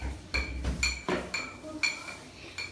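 A spoon clinks repeatedly against a container while stirring a baking soda volcano science project, with bright metallic taps coming in an uneven rhythm, close and fairly clear.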